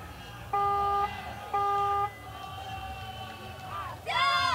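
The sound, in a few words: Chinese crowd cheering for their archery team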